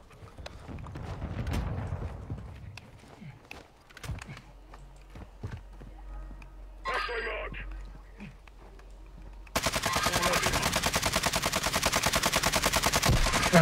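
A military video game fires scattered single shots and clattering bursts, then a dense, sustained stream of rapid automatic fire fills the last few seconds, with voices talking intermittently.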